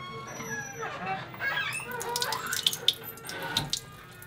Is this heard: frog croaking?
no